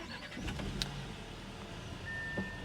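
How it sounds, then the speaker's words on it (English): A 2023 Audi A6 Quattro starts up, its engine turning over and catching into a quiet, steady idle, faint and close with a short chime near the end. "Let's go ahead and start the car for the sake of the video."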